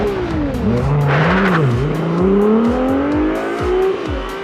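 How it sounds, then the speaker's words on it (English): A new Ferrari sports car engine accelerating and revving hard, its pitch climbing steadily with repeated gear-change dips, loud and close throughout with a brief tire-squeal-like hiss near the start. "with the acceleration and higher revs, the volume has to increase"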